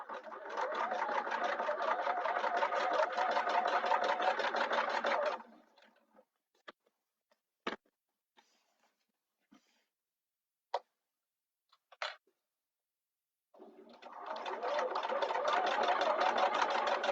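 A sewing machine stitches along a marked line on a sling flap, running in a steady loud whir for about five seconds, pausing amid scattered clicks, then starting up again near the end.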